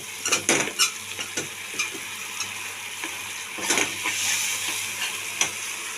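Ground spices and garam masala are fried in a pan with a soft sizzle, under repeated clinking and scraping of a metal spoon against the pan.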